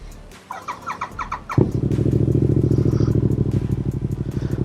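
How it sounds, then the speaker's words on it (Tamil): A Royal Enfield Interceptor motorcycle starts: a few brief starter clicks, then the engine catches abruptly and settles into a loud, close, steady pulsing idle. "ஸோ வண்டியை ஸ்டார்ட் பண்ணுறோம்"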